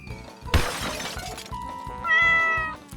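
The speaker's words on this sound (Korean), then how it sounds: "크록스 씨는 고양이 너무 귀엽지 않아?" A cat meows a couple of times, short and close, with a sharp shattering crash near the start and faint background music.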